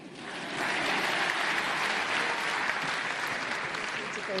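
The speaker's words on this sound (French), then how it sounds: "Sous vos applaudissements, Mohamed Salah pour la deuxième fois, meilleur joueur africain" A ceremony crowd applauds Mohamed Salah as he is named African Player of the Year 2018, sustained dense clapping that swells in after a brief quiet start and holds steady throughout.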